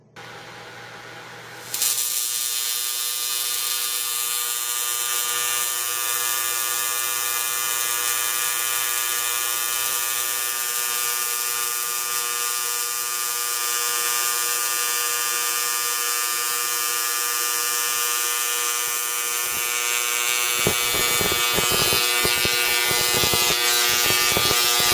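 A DRSSTC Tesla coil, freshly repaired after an IGBT failure, runs at full power inside its Faraday cage, giving a loud, steady electric buzz that starts abruptly and holds for over twenty seconds, turning rougher and crackly near the end.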